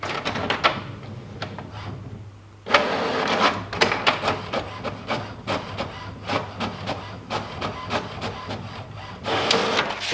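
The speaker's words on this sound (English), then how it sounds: "Now it will start printing." An HP wireless printer runs a page through, its mechanism whirring and clacking in a steady series of feed and print-head strokes, close and fairly loud with a low constant hum beneath.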